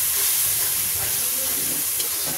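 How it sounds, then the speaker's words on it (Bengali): Coriander spice paste sizzling loudly in hot oil in a pan as a little water is added, a steady close hiss of steam and frying with no talking. "এবার এটা আর একটু জল দিয়ে কষিয়ে নিই"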